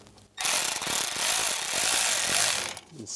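Power ratchet or socket wrench driving a 7mm bolt on a 1999-2006 Chevrolet Silverado 1500 during a turn signal lever replacement, one loud continuous rattling whir lasting a couple of seconds, close up.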